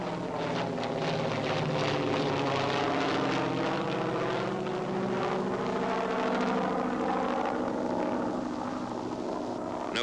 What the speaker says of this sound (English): Note the takeoff of the PBY before the glider.